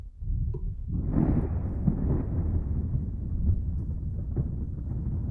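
Thunder during a storm: a deep, rolling rumble swells in after a second and continues heavy and sustained, dominated by low booming energy with no voices.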